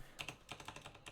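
Quick run of keystrokes on a computer keyboard, about eight soft, close clicks in an uneven rhythm over a second, with no voices.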